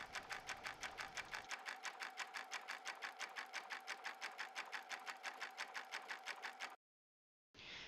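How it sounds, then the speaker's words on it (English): Embroidery machine stitching an applique pattern in satin stitch with matching top and bobbin thread, running in a fast, steady, even rhythm of needle strokes, briefly stopping near the end before starting again. "We've stitched out the remainder of the pattern using a variegated thread for the leaf veins"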